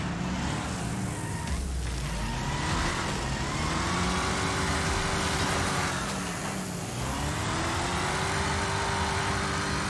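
Race cars in a Wreckfest demolition race roar continuously and loudly, engines revving and shifting pitch as they jostle, with no talk over the steady mechanical drone.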